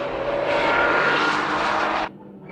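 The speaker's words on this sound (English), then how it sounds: "The NSX goes after the RX-7, which made a good start" A Honda NSX and a Mazda RX-7 racing at Tsukuba circuit, a loud, strained engine howl holding steady before cutting off abruptly near the end, with a fainter engine note following.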